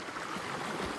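A sizeable river on the Tanahun–Lamjung border flows steadily, a soft continuous rush of water heard alone for a brief moment.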